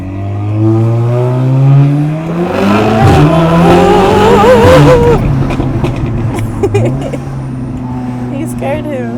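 Low engine rumble from a 550 bhp car crawling slowly through London traffic, a steady deep drone with rising and falling revs, voices talking over it throughout.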